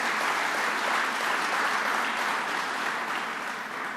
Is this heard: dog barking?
no